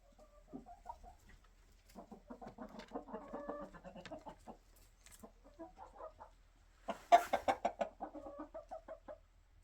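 Chicks peep in an indoor brooder, giving bursts of soft, close chirps and a louder cluster of cheeps near the end against a quiet background.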